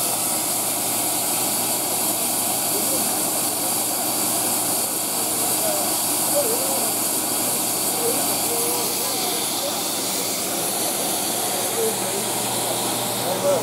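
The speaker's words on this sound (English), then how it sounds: "We are amazed to see a steam locomotive in steam today." A GWR 7029 Clan Castle steam locomotive stands in steam at a station during a gala, giving a steady, loud, continuous hiss of escaping steam throughout, with faint voices underneath.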